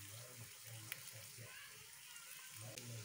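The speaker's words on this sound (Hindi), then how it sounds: "इसमें अब हम बाटी को डाल के सेक लेंगे और फ्लेम को लो कर लेंगे।" Potato-stuffed masala bati dough balls made from wheat flour cook in a greased pan over a low flame, giving a faint, continuous gentle sizzle with a few soft clicks.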